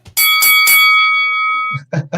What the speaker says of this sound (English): I will ring the bell for you.